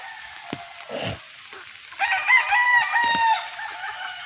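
Roosters crowing at a rainy-season chicken farm in San Pablo, a long ragged crow after a few short clucks and squawks, fairly close and clear over quiet rural background.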